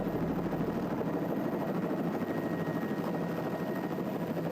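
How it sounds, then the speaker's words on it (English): Helicopter at a Kenyan wildlife capture site, its rotor and engine producing a loud, steady, continuous throbbing drone with a dense rapid chop, close and unbroken throughout. "the pair will sprint to the chopper and get back in the air"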